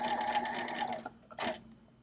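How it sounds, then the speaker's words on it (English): A sewing machine stitches an exposed zipper in a quick, whirring run that stops, then restarts briefly for a short second burst, heard up close with no talking. "So I'm stitching pretty close,"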